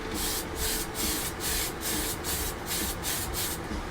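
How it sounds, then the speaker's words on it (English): Primer sprayed in steady sweeping passes across 1/48 scale F-4 model kit parts, a close continuous hiss pulsing in short regular bursts about every half second. "I'll just spray all the way across."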